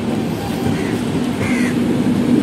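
The Tinsukia to Bengaluru Express, train 22502, rolls along its rails with a steady, dense rumble and rattle heard from on board, continuous and loud without a break.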